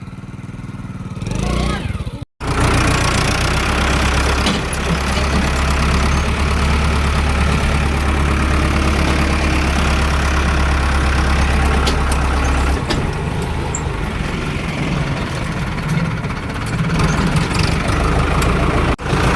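A tractor engine idles close by with a loud, steady low rumble. A brief dropout comes early on, and the drone then carries on unbroken with faint background activity.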